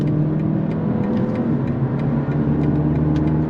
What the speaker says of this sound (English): But out here on the highway, it cruises nicely.